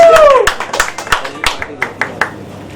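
Scattered, separate claps at a song launch event with a chief guest, about a dozen sharp hand claps in an uneven rhythm, with a voice heard briefly at the start.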